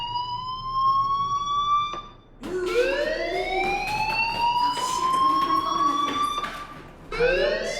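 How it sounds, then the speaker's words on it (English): A fire alarm ringing in the video game Life is Strange, a loud siren that sweeps upward in repeated wailing cycles, with short breaks between them, continuous and close. "Hey, do you hear that fire alarm?"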